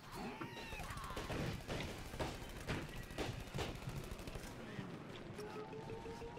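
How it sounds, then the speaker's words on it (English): Artillery strike in Plants vs. Zombies: Garden Warfare 2, a chaotic run of rapid gunfire-like bursts and repeated booming impacts with a few sharp hits, while game sound effects and some speech play underneath. "We dodged that artillery strike"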